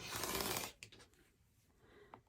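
Paper being cut with scissors while trimming the corners of a penny craft, a dense rustling snip for under a second and then quiet with a few faint clicks and scrapes close by.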